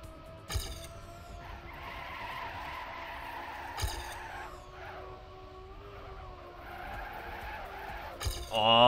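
A racing video game car drifts and slides with sustained tire skidding over a steady engine drone, broken by a few sharp bumps, while a commentator talks throughout.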